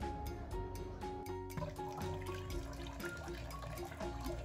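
Lentils being washed in water, with close splashing, sloshing and trickling as the grains are swirled and rinsed in a continuous, moderately quiet stream of liquid sounds.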